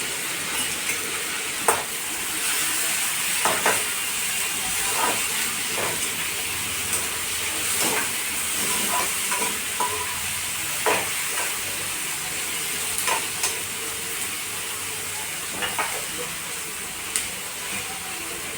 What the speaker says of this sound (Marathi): कांद्याचा दोन मिनटं फ्राय करून घेतला तिला ते टोमॅटो टाकायचे